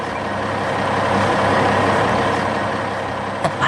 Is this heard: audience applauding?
no